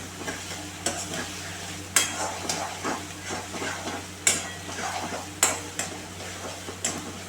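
Ginger paste with garlic and cumin frying in a pan, a steady soft sizzle under repeated clinking stirs of a utensil against the pan, close and without talk.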